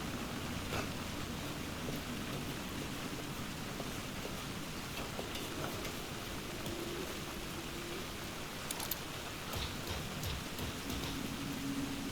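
Steady rain falling in the dark city streets of the video game Alan Wake 2, a dense, even hiss of drops with a few brighter splashes, continuous and moderately loud with no voices.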